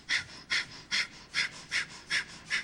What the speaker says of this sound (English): Same thing with the breath of fire, it's just faster.